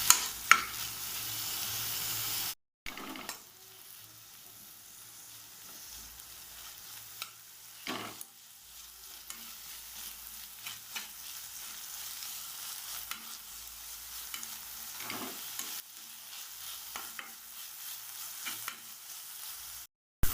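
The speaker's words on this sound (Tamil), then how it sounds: "எண்ணெயில் 3/4 பாகம் வதங்குற அளவுக்கு இதை வதக்கி விட்டுடலாம்." Drumstick leaves and curry leaves sauté in hot oil with a faint, steady sizzle, broken by occasional scraping stirs of a spoon against the pan, quiet and close with no talking.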